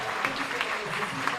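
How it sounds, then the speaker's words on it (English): Audience applause at a labor justice event on transnational organizing, a brief burst of steady clapping with faint voices mixed underneath. "Please give them a big round of applause"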